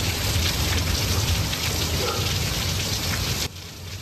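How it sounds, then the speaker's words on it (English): Heavy rain pouring down during a flash flood warning, a dense roaring patter that fills the whole clip and drops slightly in level near the end. "Heavy rain, flooding, and roads covered in water."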